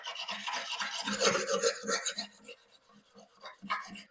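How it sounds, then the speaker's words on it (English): A diamond plate rubs a burr off the back edge of a hedge trimmer blade, making close raspy, gritty strokes in a quick back-and-forth rhythm that grow fainter toward the end. "There's a little bit of a burr raised on the back edge, so I'll just take the diamond plate back."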